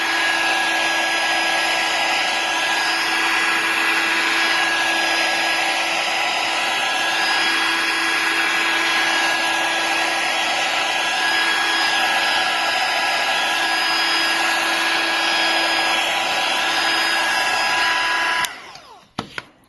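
Heat gun set to 200 degrees blowing on the side frame of an iPhone 4 or 4S: a loud, steady whooshing hum with a constant whine that runs unbroken, then cuts off abruptly near the end with a few clicks.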